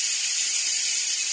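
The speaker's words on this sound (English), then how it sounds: "now we're going to undo it and let the steam come out of it" Steam hisses out of a pressure cooker as its valve is opened after grape juice chicken has cooked, a steady, loud, broadband rush that holds constant and uninterrupted throughout.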